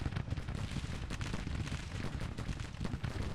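Massed cannon artillery fire on a battlefield in the strategy video game Grand Tactician, a dense, continuous rumble of overlapping booms and blasts with no pauses and no speech.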